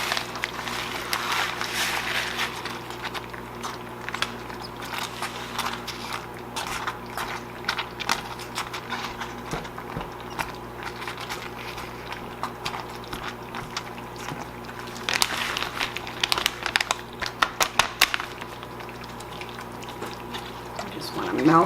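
A thick, bubbling potato sauce is stirred as cheese melts in, giving a soft, steady wet crackle and simmer with brief scraping bursts, with a person talking over it throughout.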